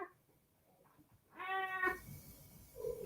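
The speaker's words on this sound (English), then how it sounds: "There's a cat making a noise." A cat gives one clear, drawn-out meow near the middle, fairly close but not loud, with faint room noise before and after.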